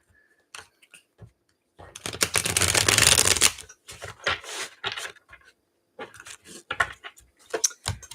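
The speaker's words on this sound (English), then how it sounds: "I always shuffle in threes." Tarot cards being shuffled by hand, with scattered short riffles and taps before a dense, steady burst of shuffling in the middle, then more broken, close-up card handling with no talking.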